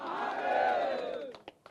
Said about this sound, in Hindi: इन संतों के लिए एक बार जोरदार तालियां और हर हर महादेव हो जाए